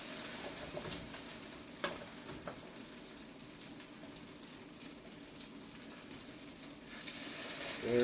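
Sicilian fish cakes frying in a pan, a steady soft sizzle throughout with a couple of sharp ticks and a faint bird call in the background, slightly louder at the end.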